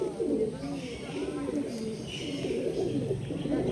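Young pet pigeons in a home loft in Kolkata coo in soft, repeated throaty murmurs close by, with a person talking over them throughout.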